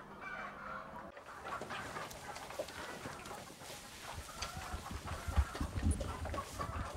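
Chickens cluck in a steady, busy chorus on a poultry farm that runs a manure-fed methane digester, with scattered calls over a low, rumbling background.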